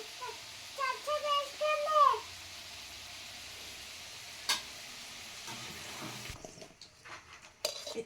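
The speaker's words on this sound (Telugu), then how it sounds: "ఇట్లా ఈ కలర్ వచ్చేటట్టు వేయించుకోవాలి" Amla gooseberries frying in oil in a pan for pickle, a steady soft sizzle running throughout, with someone talking at the start and a single sharp clink of a utensil partway through.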